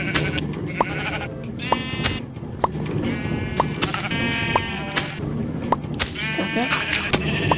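Sheep bleat repeatedly in the Minecraft video game, a string of short, nasal calls close by, with a brief spoken word among them.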